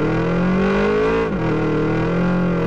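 Car engine revving hard while drifting in Drift Max Pro, a loud, continuous harmonic whine that holds high, dips briefly in pitch midway, then climbs again, alone with no voices.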